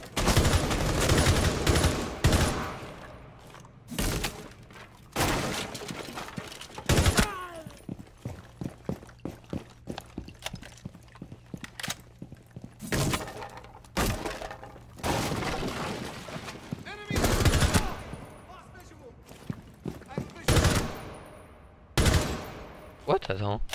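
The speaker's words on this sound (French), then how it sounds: "C'était pas une mitraillette avant?" Video game machine gun fire comes in repeated rapid bursts, loud and close, separated by short pauses, with crackling impacts and shattering sounds, while a player talks in between.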